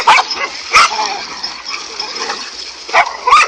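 Several dogs fighting a cobra bark and yip in sharp, loud bursts, with whimpering and scuffling between the barks, close by.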